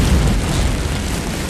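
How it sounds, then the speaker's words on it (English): A massive gas explosion tears through a city street in Guadalajara, a loud, dense, rumbling blast that fills the whole moment with deep roaring noise. "a second massive explosion destroys much of Violeta Street"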